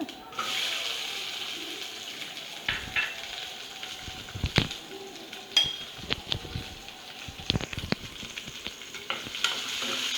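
Onions drop into hot oil already crackling with mustard seeds and urad dal, giving a steady close sizzle and frying hiss with stirring scrapes throughout.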